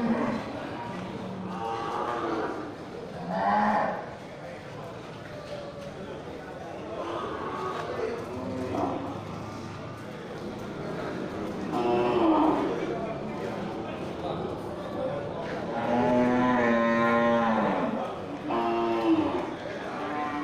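Cattle moo again and again at a busy livestock market in Grogol, Simmental and other bulls among them, the calls rising over constant crowd chatter and people talking.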